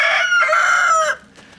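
A bantam chicken gives a loud, drawn-out call up close in the snow, cutting off after about a second, then faint softer sounds follow.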